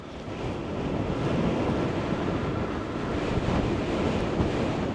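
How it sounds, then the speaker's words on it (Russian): Strong wind buffets the microphone near the Donets river at a pontoon crossing, a loud, steady roaring rush that swells slightly and never lets up. "Вот здесь вблизи Донца ветер особенно сильный."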